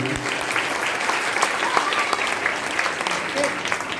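Steady audience applause at a Shrimad Bhagavat Katha religious discourse, a dense crowd of hands clapping continuously at moderate loudness for several seconds in a reverberant hall.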